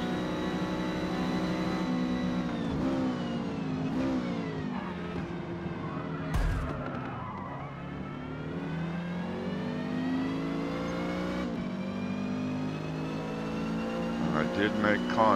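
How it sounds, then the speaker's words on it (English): A Renault 8 Gordini race car in Forza Motorsport, D class at Homestead Miami, accelerates down a short straight, its engine note rising steadily through the gears beneath continuous talk, with a brief thump midway. "now it's a drag race down this short chute straightaway to see who can get to that next corner first"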